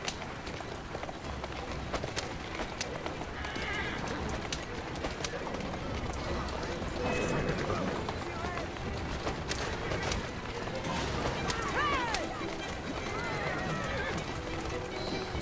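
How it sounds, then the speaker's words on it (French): A horse gallops in Assassin's Creed Syndicate with a steady run of hoofbeats, an occasional whinny and cooing pigeons in the background, while someone talks over the action. "Je suis en train de fatiguer le cheval à fond"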